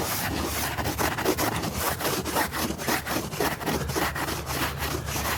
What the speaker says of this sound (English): with a brush I buy at Walmart, which is only used for polish